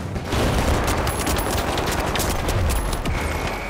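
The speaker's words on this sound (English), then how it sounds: "I unleashed a whole volley of bullets at him" A rapid volley of gunfire in the shooter game THE FINALS, dense overlapping shots rattling continuously at close range for several seconds with no voices.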